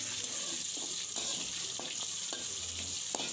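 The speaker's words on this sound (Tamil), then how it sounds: "இப்போ இந்த வெங்காயம் நல்லா வதங்கணும்." Chopped onion sautéing in a pan, a steady close hiss of frying with a few scraping stir strokes throughout and no voices.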